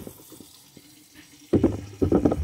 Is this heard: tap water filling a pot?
yes